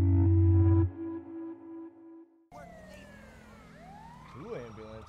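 Emergency vehicle sirens, ambulances in a video game, wail and sweep up and down after a brief steady tonal passage, fairly loud and layered over a background of engine noise.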